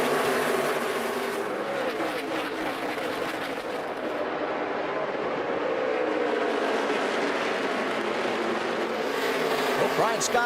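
NASCAR Nationwide Series race cars roar under the lights at Richmond at the green flag, a dense continuous engine din from the pack with passing pitch shifts, under a commentator's voice.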